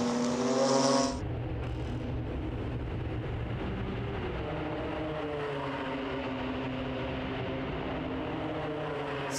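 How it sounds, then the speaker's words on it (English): BMW M2 Cup race cars slipstreaming down the pit straight at the Red Bull Ring, a sustained loud engine roar with layered drones after a brief higher whine at the start, heard continuously without talk. "Slipstreaming down the pit straight, flashing the headlights, trying to use every trick in the book to unnerve the rival."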